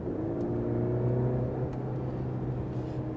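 A Mercedes-Benz C-Class W206 C200 with a 204 hp petrol engine accelerates. A steady low engine drone and hum is heard from inside the car, with no voices.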